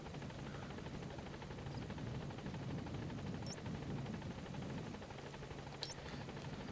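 A helicopter in the video game Metal Gear Solid 5: The Phantom Pain hovers nearby with a continuous, steady rotor thrum and engine drone. Two faint high chirps break through briefly.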